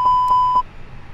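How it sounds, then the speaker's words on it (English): Three evenly spaced electronic beeps from a cockpit fire alarm test in Microsoft Flight Simulator 2020, sharp and clear, sounding alone before stopping abruptly and leaving faint background hiss. "the fire alarms."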